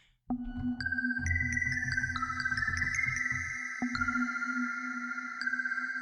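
The Arturia Pigments synthesizer chimes in with bright, bell-like tones layered over a low, rumbling pad, notes ringing and sustaining into a shimmering wash.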